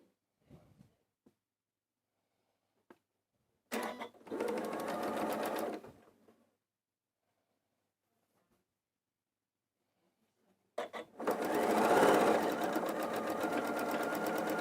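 A sewing machine runs a quilt block seam in two bursts, a short run of about two seconds and then a longer, louder run near the end, with quiet pauses and faint handling noises between.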